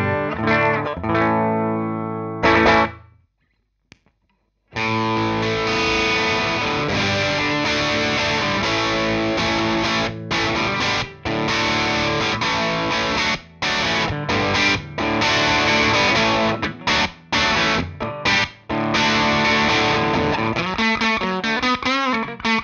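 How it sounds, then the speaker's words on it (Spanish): Guitar amplifier driven through a Thermion Engineering pedal in vintage mode, playing loud distorted chords and riffs with a brief pause near the start, then sustained dense overdriven playing with short choked gaps. "Vamos a escuchar el ampli un poquito."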